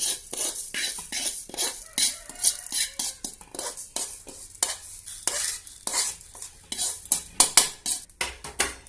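Lentils being dry-roasted and stirred in a pan for pirandai chutney, with a spoon scraping and clinking against the metal in a steady, busy rhythm over a faint sizzle, close and moderately loud, no talking.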